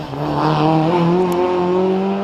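An MGB GT race car launches off the start line at the Prescott hillclimb, its engine note climbing steadily in pitch as it accelerates away, loud and close, with no voices over it.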